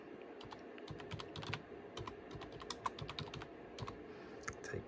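Computer keyboard keys clatter in quick, uneven bursts of taps, close and fairly quiet, with no voices.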